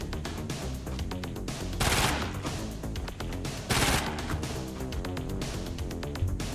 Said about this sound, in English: Bold to shoot that gun from that range.